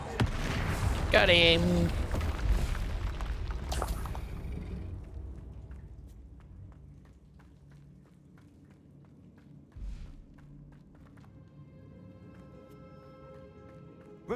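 Spell blasts from Bombarda and Confringo in Hogwarts Legacy: a loud burst at the start, then sparse sharp cracks and a few softer thumps over a quiet stretch, with a voice speaking briefly.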